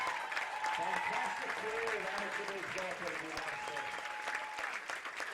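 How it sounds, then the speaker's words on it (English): Crowd at an amateur baseball state tournament game applauds a player's last game, with sustained clapping throughout and a voice talking over it. "acknowledges the applause that he is getting"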